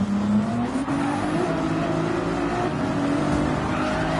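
Race cars roaring around a Gran Turismo 7 online daily race as a Porsche slides sideways, a steady loud engine drone with rising and falling pitch, other cars close by and faint tire scrub.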